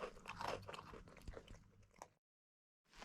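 A dog munching and chewing, giving irregular crunchy bites and wet chewing sounds up close for about two seconds before a brief silence.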